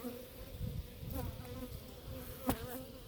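Agitated honey bees, unsettled by cold and wind, buzz in a soft, continuous drone close by, with a few sharper passes of a single bee.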